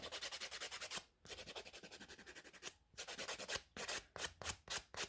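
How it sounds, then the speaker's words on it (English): A nail file rasps across an acrylic nail in fast, even back-and-forth strokes, close and fairly quiet, broken by a couple of short pauses, then quicker uneven strokes. "I am just going to file this bit a little bit flatter though."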